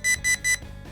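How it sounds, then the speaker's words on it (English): A Nest Protect smoke alarm sounds three quick, evenly spaced shrill high beeps close by, followed by a short quiet pause. "Heads up, there's smoke. Downstairs. The alarm may sound."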